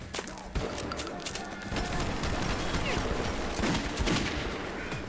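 Shotgun and rifle fire in Metro 2033, dense loud overlapping shots and clattering bursts in close combat, filling the whole moment with heavy gunfire.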